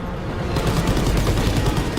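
Rapid, heavy gunfire from the World War II shooter Call of Duty WW2 during a battle on a train, loud, continuous bursts of automatic fire packed tightly together without pause.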